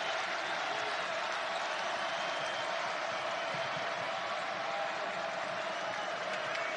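Arena crowd at an Alabama vs Texas A&M college basketball game, with a loud, steady roar of cheering and applause that holds throughout without a break.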